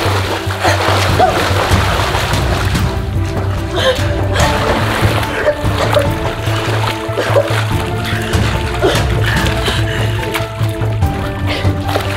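Continuous water splashing and sloshing in a swimming pool, close and fairly loud, with a steady low hum underneath and no clear pauses over the whole stretch.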